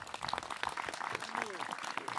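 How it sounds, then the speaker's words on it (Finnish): An outdoor crowd at a village festival during a river rowing event gives dense, steady applause, close and fairly loud, with voices heard among the clapping. "Annetaanpa yhdessä aplodit."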